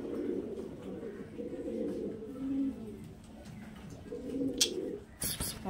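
Kaldom pigeons give low, rolling coos in repeated phrases, fairly close, with a few brief sharp sounds near the end.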